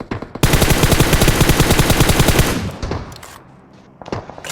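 Rapid continuous gunfire from a video game weapon, a loud dense burst of evenly spaced shots lasting about two seconds before cutting off into quieter game noise and scattered sounds.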